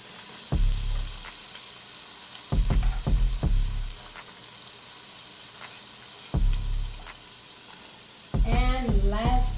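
Onions stirred and frying in a soup pot for chicken and rice soup, a steady low sizzle broken by several clattering scrapes of the spoon, with someone talking in places.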